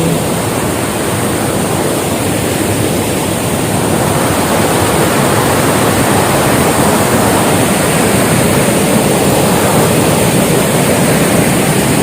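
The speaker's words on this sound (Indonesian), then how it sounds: "di sini ada air terjun kecil seperti ini" A small waterfall beside the Gunung Gede hiking trail pours in a loud, steady rush of water, close and continuous for the whole stretch with no voices.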